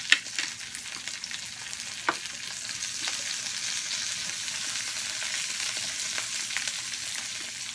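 Food sizzles steadily on a Korean-style barbecue grill, a dense, continuous crackle with a few sharper pops, close and fairly loud, with no talking.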